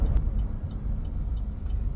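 A 2024 Chevrolet Montana RS pickup with a 133-horsepower engine running on ethanol cruises along a highway, giving a steady low engine and road rumble with no speech.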